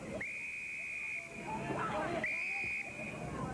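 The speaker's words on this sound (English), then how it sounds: "A lot of whistle blowing." Two long, shrill referee whistle blasts sound over a loud, murmuring crowd at an Australian rules football match, the second starting about two seconds after the first.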